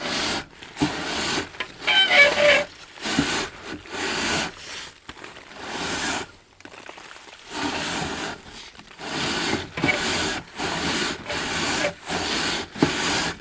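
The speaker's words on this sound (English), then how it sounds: "you can hear a lot of fresh ash is now falling down again inside the bag" Soft rustling and scraping bursts in an irregular rhythm as fresh coal-stove ash slides and patters down inside a bag in a chimney, close and fairly quiet.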